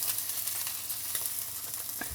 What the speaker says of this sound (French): on les poêle en côté peau